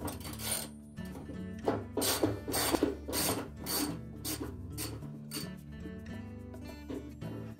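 Ratchet loosening a 7/16 bolt on a Whirlpool washer wash plate, a series of rasping clicking strokes in uneven bursts, close and moderately loud, with no talking.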